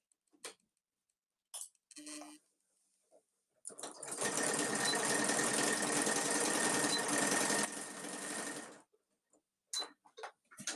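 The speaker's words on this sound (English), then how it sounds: "Just going to go baste it down, attach it to the bag." A sewing machine bastes fabric onto a boxy bag, running in one steady, close, continuous burst of about five seconds, with brief handling clicks and rustles before and after.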